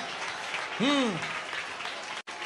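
A church congregation claps together in a sustained wash of applause, fairly loud and even, with a rising and falling voice-like cry briefly standing out and a sudden momentary drop near the end.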